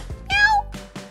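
A cat gives a loud, drawn-out meow up close, followed by two shorter, quieter calls.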